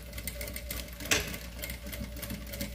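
A sewing machine sews a small maternity bag, humming softly and continuously at slow speed with a brief sharper click in the middle and no speech.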